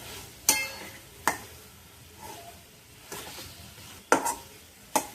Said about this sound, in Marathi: आपण ह्याला हलवून घेऊया छान आपण गाजराला एकसारखं हलवणार आहोत